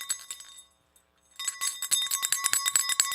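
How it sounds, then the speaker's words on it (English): Tip jar bell on a live sports call-in show: one brief faint tap, a short pause, then a rapid run of bright metallic dings ringing close and loud with sustained shimmering tones. "I finally got a bell."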